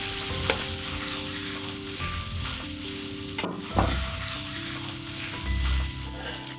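Diced lean pork stir-fried with doubanjiang in a wok, a continuous close sizzle broken by repeated spatula scrapes and clanks, with a few louder stirring knocks.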